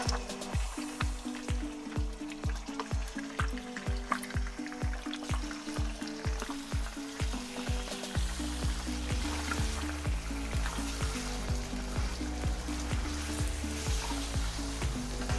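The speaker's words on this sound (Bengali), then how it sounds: "চিকেন যতক্ষণ সাদা না হচ্ছে ততক্ষণ ভেজে নেব" Chicken pieces fry in hot oil with a soft, continuous sizzle and occasional stirring, heard under steady rhythmic background music that fills the clip.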